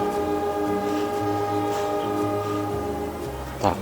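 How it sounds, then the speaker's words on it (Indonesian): A train passes close by with a steady, loud rumble and rolling clatter that lasts throughout, with a short sharp squeal near the end. "ada kereta ya"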